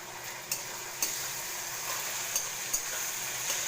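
Tomato paste for matar ghugni sizzles steadily while being stir-fried in a pan, with a constant frying hiss broken by a few sharp scrapes and clacks of the spoon stirring it.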